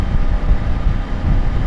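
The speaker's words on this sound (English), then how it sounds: "I hear the hum and the tone of a motorcycle." A steady low motorcycle hum blends with buffeting wind turbulence, heard from inside a Shoei GT-Air 3 helmet, a continuous rumbling roar with no talking.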